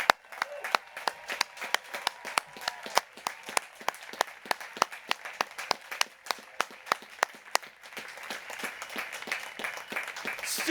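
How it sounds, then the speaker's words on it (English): Light applause at a Class of 2020 high school graduation ceremony: a thin spread of hands clapping at a moderate, fairly even pace, soft and somewhat distant, with the sharpest claps standing out clearly. "Get on your feet and give them a round of applause."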